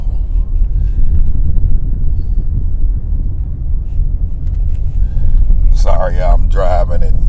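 Car driving along with a steady low road rumble and wind noise throughout, a voice talking briefly near the end.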